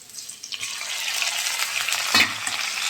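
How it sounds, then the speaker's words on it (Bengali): Ginger and garlic paste frying with browned onions in a pan, a bright, dense sizzle close by, broken by stirring scrapes and one louder clatter of the spatula. "এটা দিয়ে একটু ভাজা ভাজা করে নেব"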